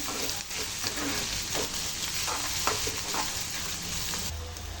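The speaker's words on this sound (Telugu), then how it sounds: "ఇప్పుడు దీన్ని మంచిగా వేయించుకోవాలండి. ఇది కొద్దిగా గోల్డెన్ బ్రౌన్కి వచ్చేంత వరకు వేయించుకోవాలి." Onions sizzle steadily in hot oil for an egg and tomato curry, a continuous close frying hiss with a few faint stirring scrapes.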